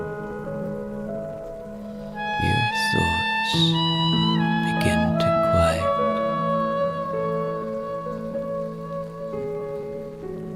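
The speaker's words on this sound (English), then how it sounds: "the musician's song fades into the sound of rain" Rain falls steadily at night in a neon-lit city, a soft continuous hiss beneath calm narration and gentle melodic tones that swell and fade.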